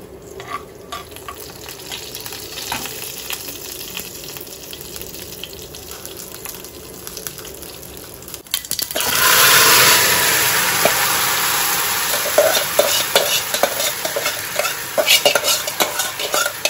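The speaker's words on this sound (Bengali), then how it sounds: "আলু ভাজিটা খাওয়ার জন্য এখানে মেথি, সরিষা আর জিরা দিয়ে ফোড়ন দিব" Fenugreek, mustard seeds and cumin tempered in hot oil, then potatoes fried in the pan: a quieter stretch of light clinks and faint sizzle before a loud, steady hiss takes over, with scraping and utensil knocks throughout.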